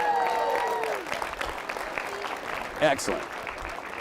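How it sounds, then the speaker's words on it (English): A conference audience gives a round of applause, a moderate wash of clapping under a voice that speaks over it throughout. "Give this man a round of applause."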